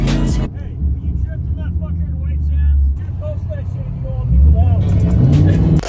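A Jeep Trackhawk with a Hellcat V8 drives with a deep, steady engine rumble throughout, swelling louder toward the end, while voices talk over it.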